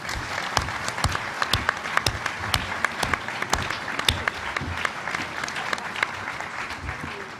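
An audience at a press club luncheon breaks into a round of applause, sharp individual claps standing out over a dense, loud wash of clapping that continues steadily throughout.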